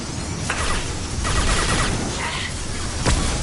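Sustained gunfire with combat rounds in the Mass Effect 2 video game, a dense rattling fusillade with a few sharper cracks standing out.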